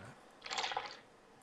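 Taking a drink of water in the sailing video game Sailwind: a single short, soft gulping and sloshing sound, faint and close, lasting about half a second.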